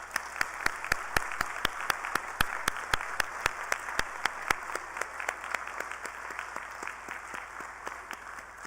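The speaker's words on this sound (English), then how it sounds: "please join me, graduates, in a special round of applause to recognize the community that has supported you" Graduates and guests at a Waterloo Class of 2023 convocation ceremony break into applause, with dense clapping that starts strong and slowly thins toward the end while the hall's background hum stays underneath.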